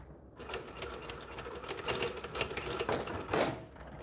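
A sewing machine stitches through a bag, sending a dense run of rapid mechanical clatter close by, with small surges in loudness as the seam goes through.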